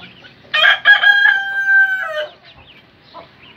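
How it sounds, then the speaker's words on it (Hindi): A Lasani breed rooster in a cage lets out one loud, close crow lasting a couple of seconds, with quiet before and after it. "ये हमारा लासानी मुर्गा माशाल्लाह"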